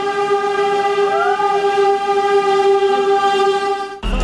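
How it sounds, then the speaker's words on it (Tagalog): A PNR train at a railway crossing sounds its horn in a long, loud, sustained blast that briefly bends in pitch, then cuts off into a low rumble as the train nears. "Napapalapit na ang tren. Ang lakas na ng busina."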